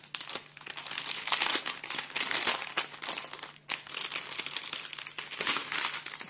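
Diamond painting beads are tipped back into a plastic bag, giving a close, steady crinkling and rustling of the plastic that runs through the whole stretch with small dips and surges.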